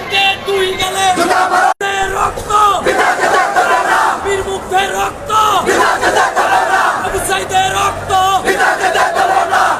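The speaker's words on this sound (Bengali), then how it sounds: "আইনজীবীরা তারা কিন্তু আদালত প্রাঙ্গণের মুখেই কিন্তু তারা স্লোগানে কিন্তু প্রতিবাদ করছে" Lawyers at a Dhaka court entrance chanting protest slogans in unison, a loud close rhythmic crowd chant with repeated call-and-response phrases, briefly interrupted once.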